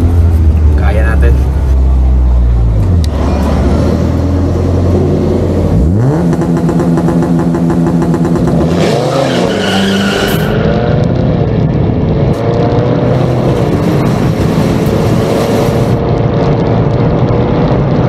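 Diesel drag racing cars in Mindanao launch and accelerate hard. A loud, close engine roar climbs in pitch through several gear changes, and indistinct voices sound underneath.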